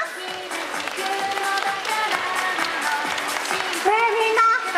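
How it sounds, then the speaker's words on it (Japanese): An audience at a live costumed-hero stage show claps loudly, sustained applause that continues under an amplified announcer's voice and background music. "大きな拍手をお願いします"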